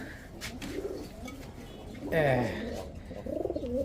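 Newly bought silver pigeons coo softly in a few short bursts, with a person talking nearby over them.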